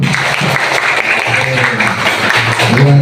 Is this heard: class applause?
yes